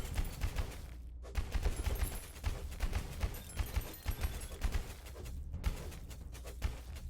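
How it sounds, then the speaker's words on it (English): Corpse explosions in a video game, heard as rapid, rattling bursts of crackling blasts that come thick and fast in dense volleys with brief gaps, fairly quiet overall. "I do know there's a lot of corpse exploding going on right now."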